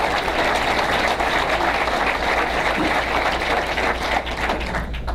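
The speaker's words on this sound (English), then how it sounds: "Let's give them a round of applause." Loud, sustained audience applause at a live event, dense clapping filling the room continuously with a low hum underneath.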